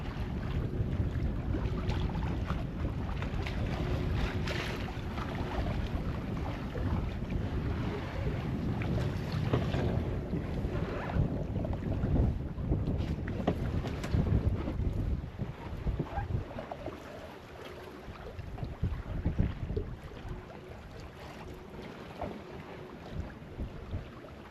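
Steady wind roars over open sea aboard a boat off Gruissan, a continuous broadband rush with low-end buffeting and water noise, loud and unbroken throughout with no talking.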